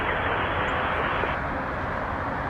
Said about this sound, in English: There's a 737 from Winnipeg,